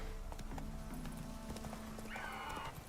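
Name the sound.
horse Roach galloping, from the video game The Witcher 3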